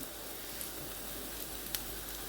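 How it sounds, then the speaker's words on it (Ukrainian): Chicken mince frying in a pan for a meat pie, a steady soft sizzle and crackle at low level with a couple of faint pops, no talking. "спочатку підсмажу фарш"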